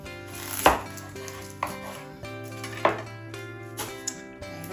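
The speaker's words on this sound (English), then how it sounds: "I'm gonna cut this onion up." A knife chops through an onion on a cutting board while a lemon, garlic and rosemary roast chicken is prepared, giving four or five separate, close, sharp knocks spaced unevenly apart.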